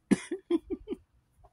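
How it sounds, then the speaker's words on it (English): A close, raspy cough followed by a quick run of four more short coughs, then silence. "before I start coughing again"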